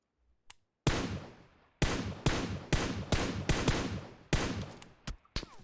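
Gunfire from the battle-royale video game PUBG Mobile: a faint shot, then a run of loud, sharp bursts in quick succession, each cracking out with a short decay, close and uncovered by any voice.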